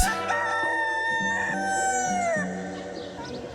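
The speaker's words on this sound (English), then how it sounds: "He had a rooster in there." A rooster crows loudly and close, one long drawn-out call, with clucking and other farmyard sounds carrying on underneath.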